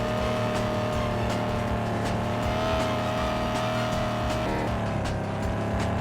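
A video game car engine revs with sustained harmonic tones that hold steady, then dip and shift near the end like a gear change, loud and continuous throughout.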